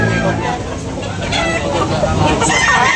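Chickens cluck and crow at a busy poultry market in Tabunok, Talisay. The birds carry on steadily beneath a continuous crowd babble and nearby voices.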